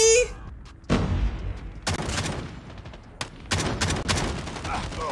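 Gunfire in Call of Duty Mobile, including a shotgun, comes in loud close bursts and rapid volleys that start abruptly and repeat, with a voice talking briefly.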